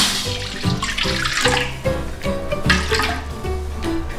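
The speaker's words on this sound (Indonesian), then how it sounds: "Pertama-tama airnya kita taruh di dalam wajan ya Bun." Water splashes and pours steadily into a metal wok, a bright running gush with some clatter, close by and without speech.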